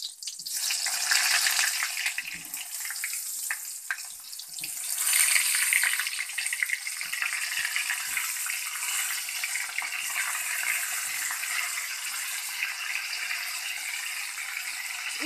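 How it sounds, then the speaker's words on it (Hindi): Stuffed parwal (pointed gourd) frying in hot oil in a pan, a steady bright hiss and sizzle with small pops and crackles, continuous and moderately loud throughout. "इधर तेल भी हमारा गर्म हो चुका है। अब मैं इसमें ऐड कर रही हूँ परवल।"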